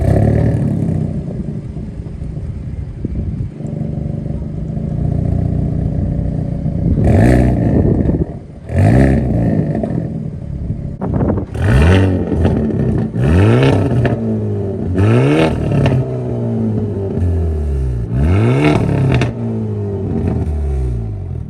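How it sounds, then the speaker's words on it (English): Exhaust of a 2022 Hyundai Elantra N burbles at idle, then barks through a series of sharp, loud revs that climb and fall in quick succession, close up with no talking. "you guys are listening to the exhaust"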